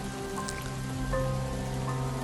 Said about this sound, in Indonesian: Turun hujan deras waktu itu.